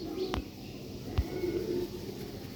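A pigeon coos softly and close by, a low murmuring call among faint background noise, with a couple of sharp knocks breaking in.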